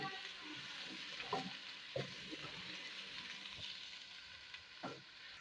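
Tomatoes softening in a pan for aloo chicken shorba give off a quiet, low sizzle, broken by a few soft scrapes and clinks of stirring, heard close but faint.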